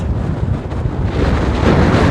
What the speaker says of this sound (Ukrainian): це взагалі дике море